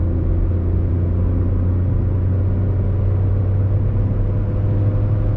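A 2011 Skoda Fabia HTP petrol hatchback engine pulls steadily uphill in third gear at about 3000 rpm, giving a continuous, even, close-up drone and low rumble with no talk.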